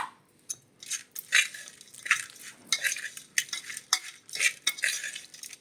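Flattened rice tamarind rice (atukula pulihora) being mixed with lemon juice, a series of close, soft scraping and stirring strokes in irregular bursts with light clinks of a utensil against the vessel.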